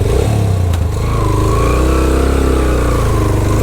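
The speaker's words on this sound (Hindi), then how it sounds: "इस ट्रैक पे बाइक लेके जा रहा हूँ" A motorcycle climbs a steep track near a hillside fort, its engine loud and close with a steady throbbing rumble and slight rise in revs throughout, no voices over it.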